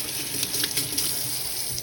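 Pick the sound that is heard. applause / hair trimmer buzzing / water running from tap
water running from tap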